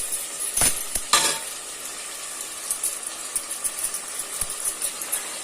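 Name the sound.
sautéing mint with chicken for biryani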